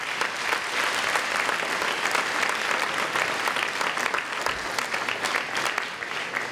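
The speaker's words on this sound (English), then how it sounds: "So give yourselves a round of applause." Sustained applause from a large audience at a celebration event with Governor Charlie Baker in Lawrence, dense and steady throughout with no voices over it.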